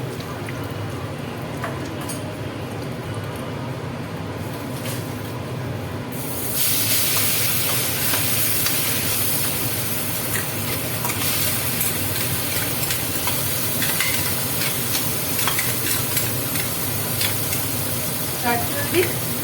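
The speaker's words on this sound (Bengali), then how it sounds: "তারপরে মশলা দিয়ে কষিয়ে নেব।" Eggs sautéed with spices in a pan, a continuous sizzle and hiss that grows louder and brighter partway through, with occasional stirring.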